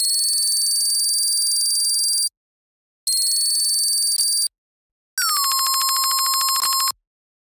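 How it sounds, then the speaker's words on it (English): A high-pitched synth runs through a frequency shifter modulated by a square-wave LFO, giving a bright, ringing, bell-like tone. It plays in three separate bursts, the last one dropping sharply in pitch before it settles. "when we add on this frequency shifter and we bring on the LFO here, we got the shape turned to a square,"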